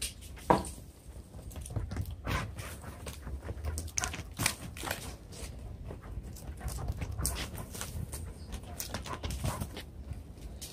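A Weimaraner romps energetically, panting and snuffling with brief whimpers and scuffling bursts of movement close by, while faint birdsong sits in the background.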